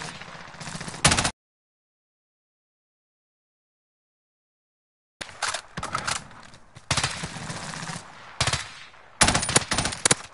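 Bursts of rapid automatic gunfire aimed at a player in a multiplayer shooter game, loud and close, in short rattling volleys at the start and again across the last five seconds after a stretch of silence.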